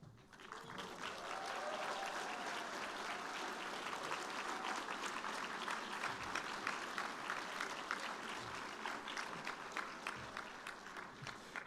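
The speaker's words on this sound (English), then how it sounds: "Of course, we were really clapping for your parents" An audience at the JIS Class of 2024 graduation ceremony applauds in a sustained burst of many hands clapping, heard from a distance in a large room and fairly faint, building quickly and then holding steady.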